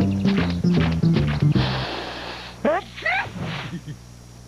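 A cartoon beast sneezes, loud and comic, in a Nick Jr commercial, the sneeze following spoken lines and a quick musical flourish.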